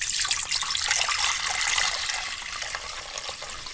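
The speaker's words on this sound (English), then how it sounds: "I'm going to fill this pot." Tap water pours steadily into a cooking pot, a continuous bright rushing splash that softens slightly toward the end, with no voices.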